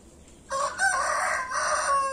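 A rooster crows loudly and close by, one long drawn-out call with a rising start and sustained harsh tone.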